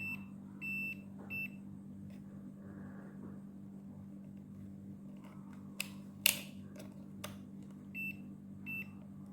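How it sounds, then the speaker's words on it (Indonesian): A multimeter continuity buzzer gives several short, high beeps while power supply circuitry is being tested. The beeps sound in small clusters over a steady low hum, with a few faint clicks and no talking. "Kita coba pilih di buzzer ya."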